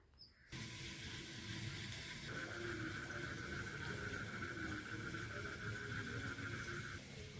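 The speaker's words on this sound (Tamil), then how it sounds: "தவளை கத்துற சத்தம் நல்லா கேட்கும் பாருங்க" A night chorus of frogs: rapid, high-pitched pulsing chirps repeating steadily over a constant droning tone, fairly faint and continuous.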